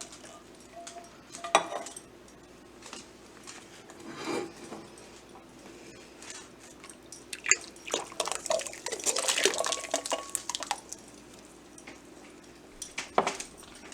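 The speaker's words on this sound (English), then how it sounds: "I'm going to put the liquid in." Liquid from canned northern beans is poured into a pot of bean and ham soup, making quiet, intermittent splashing and dribbling with a few soft clinks of can or utensil against the pot.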